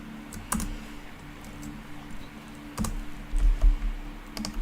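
Typing on a computer keyboard during a stock market livestream, with scattered bursts of key clicks over a steady low hum and background noise, no voices.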